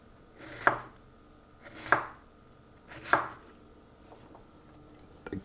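A knife chops a deseeded, quartered vegetable for a shrimp salad: three crisp, close chops land about a second apart, each with a sharp knock on the board, followed by near silence.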